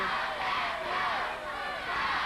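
A wrestling crowd at a 1990 USWA Dallas match between two wrestlers roars continuously in the distance, a broad sustained wash of cheering and shouting with a voice over it.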